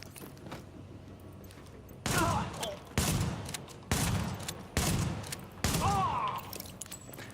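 Five heavy shotgun blasts ring out in The Division 2, evenly spaced about a second apart, each a loud sharp boom with a short tail, against quieter background game noise.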